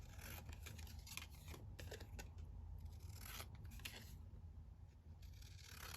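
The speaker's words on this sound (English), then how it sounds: "we'll just cut these down" Scissors cut down printed journal cards, with repeated crisp snips and papery scraping in an uneven rhythm, close and fairly quiet, with no voices.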